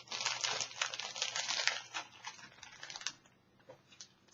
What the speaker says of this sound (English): I'm switching over to packing tape. And we're just going to kind of keep rolling and folding.